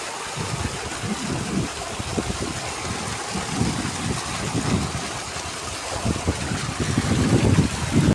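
A motorbike engine labours up a steep, slippery rocky road, a continuous rough rumble mixed with wind noise that grows louder toward the end.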